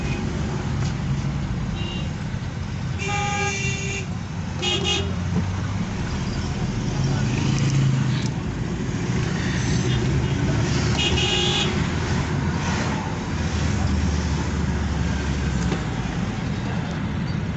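A traffic jam in the Industrial Estate area of Hyderabad, with cars and trucks idling in a long queue and several car horns honking in bursts over steady road rumble, with people talking nearby.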